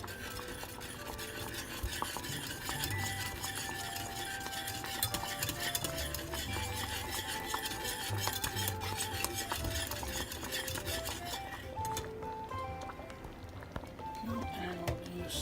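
A utensil stirs and mixes food and gravy in a pan while cooking bangers and mash, scraping and clinking continuously with a soft sizzle underneath and talk at moments.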